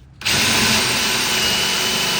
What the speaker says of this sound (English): I'm just going to touch that gel coat to create a little countersink,